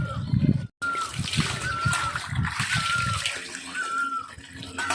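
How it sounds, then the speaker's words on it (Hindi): Spring water flowing out from the roots of a bamboo tree in a forest: close, steady splashing and trickling, with people talking over it. "बांस का पेड़ है, और जो इसके जड़ से पानी निकलता है"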